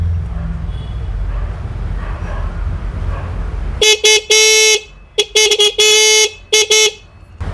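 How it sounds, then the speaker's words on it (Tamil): After a few seconds of low background rumble, a loud nasal scooter horn blares in several short bursts and one longer honk, close and uneven in rhythm. "நெக்ஸ்ட் நம்ம பார்க்க போகிறது ஸ்கூட்டி ஹாரன்."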